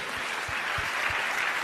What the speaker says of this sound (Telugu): గట్టిగా చప్పట్లు కొట్టి దేవుడు మహిమపరచండి